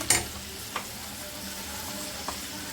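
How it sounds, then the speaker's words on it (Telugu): Chopped tomato going into a pan of spinach and red lentil curry, giving a steady close sizzle with a few sharp stirring scrapes and bursts, alone with no talk. "కట్ చేసుకున్న టమాటా కూడా వేసేస్తానండి"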